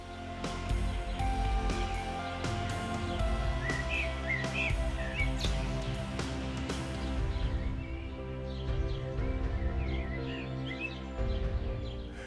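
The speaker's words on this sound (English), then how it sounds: "The call of alpine birds punctuates the quiet, larks, nutcrackers echoing through crisp air" Larks and nutcrackers chirp and call repeatedly over a dense, steady musical background, the calls light and high, scattered through the whole stretch, in the Swiss Alps.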